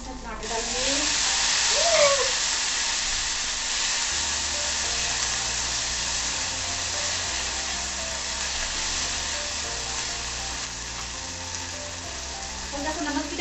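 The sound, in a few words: tomatoes added and frying in pan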